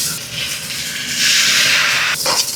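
Garlic and ginger sizzle in a hot wok as a steady, bright hiss that swells louder about halfway through and holds there, with no voices.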